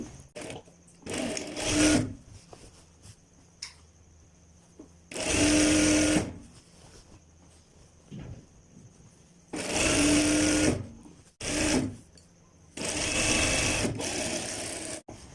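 A sewing machine stitches pajama fabric in four separate runs of fast, buzzing stitching, with short gaps of quiet handling between them.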